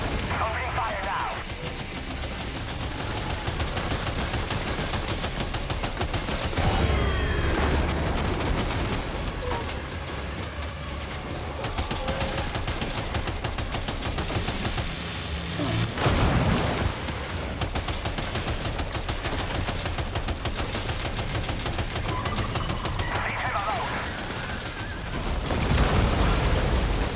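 Sustained gunfire in the video game Death Stranding 2, with repeated loud shots and bursts running continuously over dense game noise and occasional voices.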